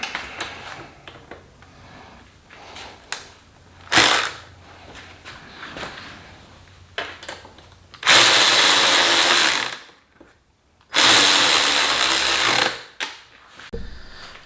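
A power tool runs in several bursts to tighten locking nuts on a tag bracket of a third-generation Kawasaki KLR motorcycle. The bursts start short and sharp, and the later ones are long and loud, with quiet clinks and handling sounds between them.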